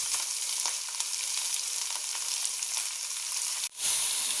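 Chopped onion flower stalks hit a hot pan with curry leaves for a thoran, giving a steady, bright sizzle of sautéing that dips for a moment near the end, with no talking.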